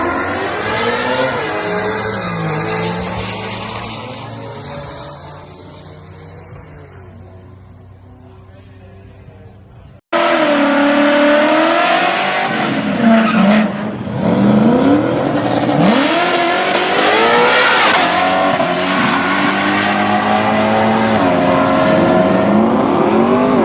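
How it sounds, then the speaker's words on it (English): Engine of a Coyote-swapped Ford Fairmont Futura at a racing event, idling and revving roughly with an uneven note, then cutting to a loud, close run with rising and falling revs and stuttering surges. "Then we went out again and it just misfired real bad. So I just aborted the run."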